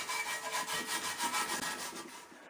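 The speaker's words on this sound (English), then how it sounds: "Just taking an SOS pad here and cleaning out the inside" An SOS pad scrubs the inside of a 2003 Infiniti G35 intake plenum with quick, regular back-and-forth rasping strokes, about four per second, close but faint.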